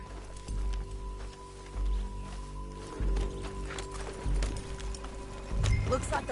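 A horse gallops in Red Dead Redemption 2, its hooves thudding in repeated heavy bursts about once a second, with game music and a voice talking over it.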